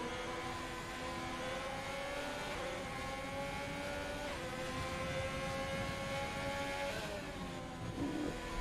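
Formula 1 race cars lapping Suzuka in the F1 video game, a sustained high-pitched engine whine that shifts pitch with gear changes and revving, steady and continuous, with no talk.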